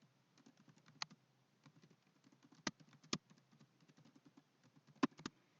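Random text typed on a computer keyboard for a desktop learning application, a soft steady patter of keystrokes with a few louder, sharper key hits standing out, quiet and close with no talking.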